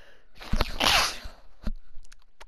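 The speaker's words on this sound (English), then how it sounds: "That was a sneeze." A single sneeze bursts out close to the microphone, loud and brief, followed by faint clicking sounds from a computer game.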